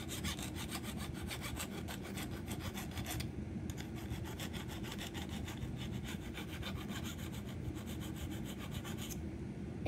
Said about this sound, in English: let's sharpen this boy up